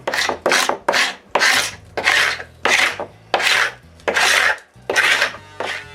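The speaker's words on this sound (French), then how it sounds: "je gratte toute la colle que je peux enlever" Dried wood glue scraped off wooden panels in a woodworking shop, a series of about eleven loud, rasping strokes in a steady rhythm, each a short burst with brief pauses between, close up and without talk.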